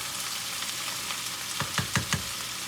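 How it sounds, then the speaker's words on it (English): Steady sizzle of onion frying in a pan, with a few louder crackling pops near the end, close up and continuous without any talking. "I love to smell onion when it's frying up."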